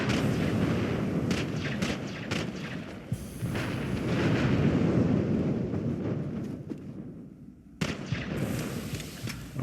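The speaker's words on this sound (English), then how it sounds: "They barrage you with those molten meteors." Molten meteors rain down on the player in the video game Borderlands The Pre-Sequel, a dense barrage of overlapping booms, crackling impacts and rumbling explosions, loud and continuous with a brief lull before a final burst.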